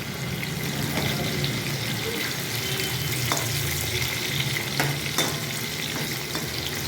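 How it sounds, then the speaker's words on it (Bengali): Potatoes frying in hot oil while being stirred, a continuous bright sizzle with occasional scraping clinks of a utensil against the pan. "তেলটা একটু গরম হলে এবার আলুগুলো ভেজে নেবো।"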